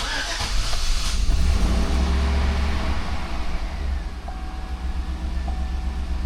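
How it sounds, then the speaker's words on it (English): A 2013 Chevy Suburban with the 5.3L V8 idles steadily after being started, a loud, continuous low engine rumble filling the clip, with no talking over it. "we're going to turn the ignition on"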